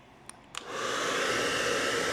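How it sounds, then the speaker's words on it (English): A hair dryer running on a portable power station kicks on after a couple of small clicks and settles into a steady, loud whooshing roar that continues to the end, with no voices. "right now we have the hair dryer going"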